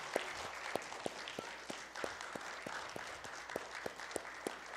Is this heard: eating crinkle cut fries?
no